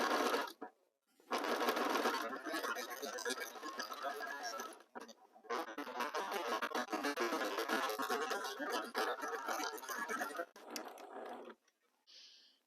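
Close, rapid, continuous machine stitching as a sewing machine sews a center line through fabric pieces, in two long runs with a short pause between them.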